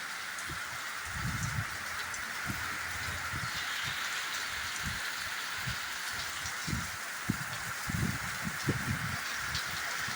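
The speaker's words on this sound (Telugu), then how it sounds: "మధ్యాహ్నం రెండు గంటల తర్వాత మొదలైన వర్షం మోస్తారు పాటుగా కురుస్తున్న దృశ్యాలు ఇప్పుడు మనం చూస్తున్నాం" Moderate rain falling steadily, a continuous even hiss with soft low thumps of drops scattered throughout.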